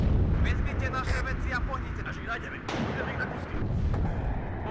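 Rocket artillery fires in the WARNO wargame as a burst of rapid booming launches and explosions, loud and rumbling, with a second blast surge midway, while a voice talks over it.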